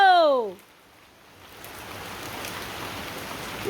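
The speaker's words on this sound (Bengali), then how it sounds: "হ্যাঁ বৃষ্টি নামছে" A brief voice gives way to a steady hiss of rain falling, soft and continuous, building slightly in intensity.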